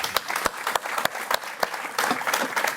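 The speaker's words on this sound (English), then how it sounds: "So a big clap to the team." An audience applauds a presentation team at an eHealth company event at the British Embassy, close rapid clapping from a small crowd.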